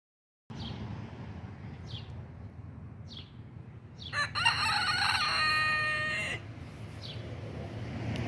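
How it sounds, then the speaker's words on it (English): Backyard chickens in a shady garden after a storm: a few sharp clucks, then a loud, close rooster crow lasting about two seconds over steady outdoor background noise. "the chickens are out here enjoying shade and strawberries"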